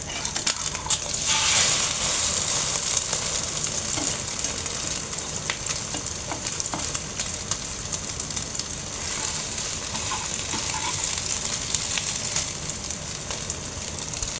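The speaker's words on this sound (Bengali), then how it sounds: "ওর বাবার জন্য মরিচ পেস্ট দিয়ে ডিম আমলেট করতেছি" An egg omelette with chili paste frying in a pan, a continuous close sizzle with occasional crackles and light utensil scrapes, steady in level, and nobody speaking.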